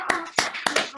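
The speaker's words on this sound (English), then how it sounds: "Let's have a round of applause." Meetup attendees clap, with three quick bursts of hand clapping in one second, sharp and close, sounding like a small group applauding over an online call.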